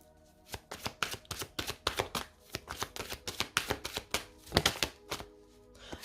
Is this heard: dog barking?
no